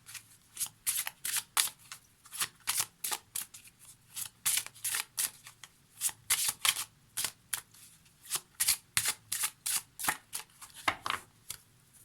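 Oracle cards are shuffled and cut by hand in a steady run of crisp riffling bursts, close and fairly quiet, repeating in quick rhythmic groups with brief pauses and no talking.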